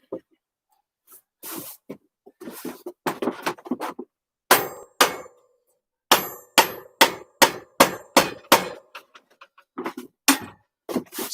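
Mallet strikes on a Marin San Quentin 3 bicycle bottom bracket in a shed, sounding as sharp, close, loud knocks in irregular bursts and then a rapid run of evenly spaced blows, with talk between them.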